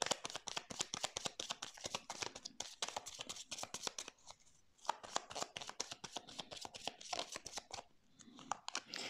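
Tarot cards being shuffled and laid out, a quick run of crisp flicking and riffling clicks that fills the stretch, with two short pauses and no talking.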